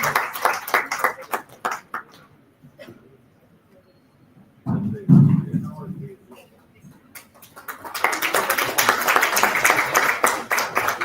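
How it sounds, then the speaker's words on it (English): Audience applause honours an award winner at a physiotherapy conference ceremony: bursts of hand clapping open the moment, fade under a brief voice, then swell into a loud, sustained round of clapping to the end. "So everyone please give him a huge round of"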